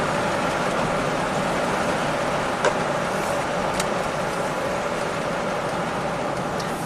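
A Honda Pilot V6 engine idling after an engine swap, with a reported stumble at idle; a steady, even rumble and hiss, close and continuous, with a couple of faint ticks.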